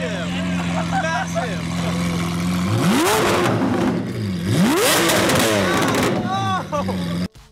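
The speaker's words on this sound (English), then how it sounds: "He's finally got it fully straight pipes, the Lamborghini Aventador, and it sounds absolutely epic." A Lamborghini Aventador fitted with straight pipes revs loudly in two sharp rising surges, roaring and crackling, while someone talks excitedly throughout.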